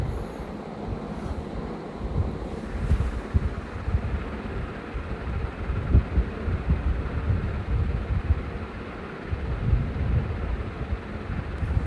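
A blender churns homemade veg mayonnaise, a loud, steady low rumbling whir with fluctuating grinding texture that runs unbroken throughout, no speech.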